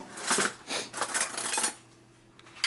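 Vegetarian cabbage and carrot mixture tossed in a bowl, with a run of clinking, scraping utensil strokes against the dish in quick uneven bursts, close up, then a quieter pause and a final knock.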